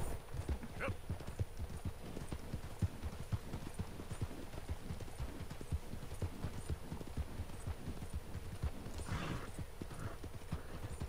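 In Red Dead Redemption 2, horse hooves beat a quick, continuous trotting rhythm for about eleven seconds, close and steady, with a short whinny-like burst near the end.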